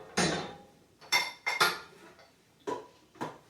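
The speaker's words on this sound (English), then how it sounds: "gently put our mixture into that pan" Cake batter spooned into an oiled springform pan for an Italian almond chocolate cake, heard as six sharp utensil clinks and scrapes against the metal pan, spaced irregularly with quiet gaps between.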